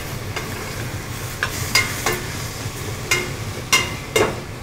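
Vegetables sautéing with dry seasonings sprinkled on top, a steady soft sizzle under several sharp spoon taps and scrapes against the pan at irregular intervals, close and moderate in level, no talking.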